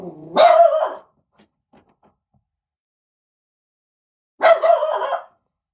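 Puppies bark in two short bursts, one near the start and another about four seconds later, with quiet in between. The barks are fairly loud and close, and no one speaks.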